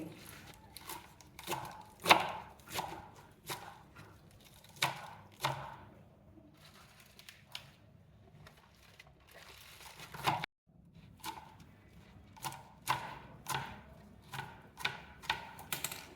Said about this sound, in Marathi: आता आपण आधी पालक थोडा चिरून घेणार आहे